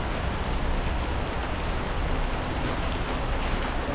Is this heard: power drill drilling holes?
no